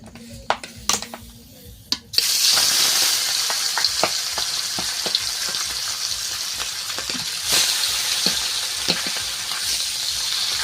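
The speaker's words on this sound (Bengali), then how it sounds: "তেলটা গরম হয়ে গিয়েছে এবার মাছগুলো আস্তে আস্তে দিয়ে ভেজে নেবো" Fish slide into hot oil in a wok: after a few quiet clicks, a loud sizzle bursts up and carries on steadily, broken by light taps and crackles.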